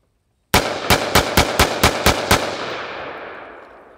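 Eight sharp AR-15 rifle shots fire in quick succession, loud and close, each crack sharply struck with a reverberant tail that rings out and fades after the last round, with no talking.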